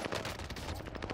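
A brief, faint stretch of rapid, continuous gunfire in a shooter video game, with dense shots rattling together at low volume.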